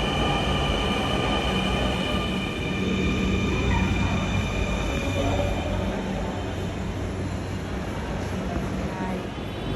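A metro train runs through a quiet city on a cold day, giving a loud, steady rumble and whine of wheels and motors that holds without a break from start to finish.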